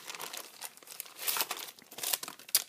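Close, crisp crinkling of plastic packaging holding layered scrapbooking stickers, handled in quick irregular bursts of rustle and crackle without talk.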